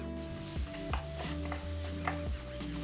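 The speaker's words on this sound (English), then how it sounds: "saute the onions in a little vegetable oil" Onions sauté in a little vegetable oil in a frying pan while a utensil stirs and scrapes them, with soft clinks under a steady hiss and a low tonal hum.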